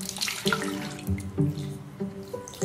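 Water runs steadily from a sink tap during handwashing, a continuous close splashing stream with small bursts as hands move under the flow, no talk over it.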